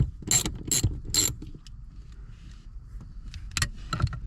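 A ratchet clicks in quick bursts while working a rusty seat bolt loose inside a Camaro being stripped for welding, three close ratcheting runs at the start, then two more after a pause, over low rumbling handling noise.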